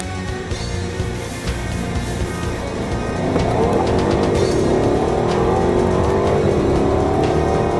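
A 510-horsepower Jaguar XK-R with its shifter in sport mode accelerates hard, its engine note climbing steadily and growing louder and fuller from about halfway through.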